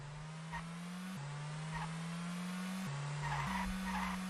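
A muscle car on slick tires slides through corners in a racing game, its engine droning steadily as the pitch steps between gears, with faint tire squeal and skidding along the way.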